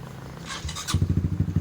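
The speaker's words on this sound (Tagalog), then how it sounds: "Bali umaandar itong motor na ito." A Honda Repsol 150 fuel-injected motorcycle engine with delayed starting and a stiff throttle turns over and catches, settling into a rhythmic, chugging idle close by.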